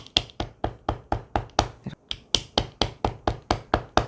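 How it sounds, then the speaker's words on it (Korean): Steel hammer tapping a folded leather coin purse on a leathercraft bench: about sixteen sharp, evenly spaced knocks in a steady rhythm, close and crisp, with no talking. "그리고 좀 안정되게 여기를 좀 망치로 두들겨 주세요."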